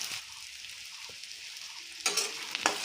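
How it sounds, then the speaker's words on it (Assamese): Dry red chilli, a bay leaf and finely chopped onions fry in hot oil with a steady close sizzle, broken near the end by a few sharp stirring clanks. "এয়া শুকান জলকীয়াটো দিছোঁ, এখিলা তেজপাত দিছোঁ আৰু মিহি মিহিকৈ কাটি লোৱা পিঁয়াজখিনি দিছোঁ।"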